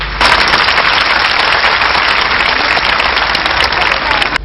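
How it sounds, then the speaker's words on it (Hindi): Dense, continuous applause from a large audience at a spiritual gathering with a guru and dignitaries, loud and unbroken for several seconds like a roar of many hands. "तालियों के महास्वर से हम इस तथ्य का अभिनंदन करेंगे"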